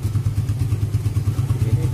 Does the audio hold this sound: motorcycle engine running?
yes